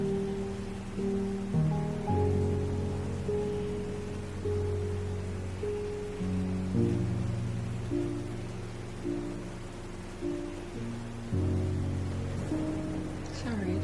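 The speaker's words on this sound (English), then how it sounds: "Let me know if the rain is a little loud." Steady rain ambience in the video game The Red Strings Club, a constant soft hiss laid under sustained, slowly shifting synth music chords that stay prominent throughout.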